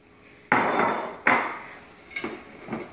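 Chunks of raw beef drop into a cooking pot for a New Orleans style pork, beef and shrimp boil, two loud clattering thuds followed by two lighter knocks, with no talking.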